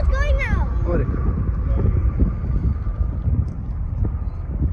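A Malaysia Airlines airliner takes off with a steady, broad roar like wind, loud and continuous throughout, while people talk over it near the start.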